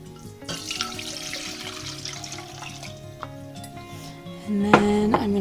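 Three cups of water pour steadily into a pot to make elderberry syrup, a continuous splashing stream with a brief clatter near the end as the pour finishes.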